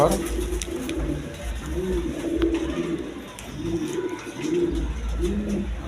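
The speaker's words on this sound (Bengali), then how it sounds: "আমেরিকান লার কবুতর" American Lahore pigeons coo repeatedly in a loft, low rolling calls coming in several bursts at moderate volume over constant background noise and low rumble.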